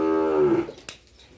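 A cow in a dairy shed lets out a single close, loud moo that falls in pitch and fades, followed by a faint knock.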